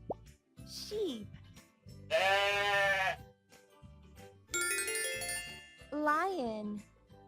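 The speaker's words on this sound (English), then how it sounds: "Sheep." A sheep bleats twice in long wavering cries, clear and close, alternating with a voice naming animals and short musical plops and chimes in a children's learning setting.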